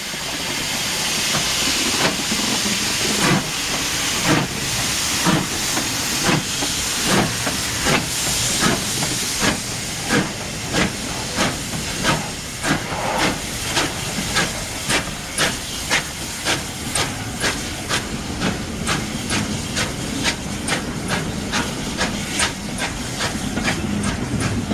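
A 9F steam locomotive pulls away, loud broad hissing steam giving way to rhythmic exhaust chuffs that quicken steadily, close by and heard alone.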